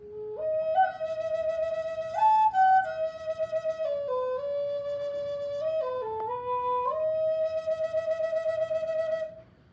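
Six-hole river cane flute playing a slow, breathy melody of sustained tones that step up and down in pitch, with short ornamental dips and a fluttering passage near the end, close and alone.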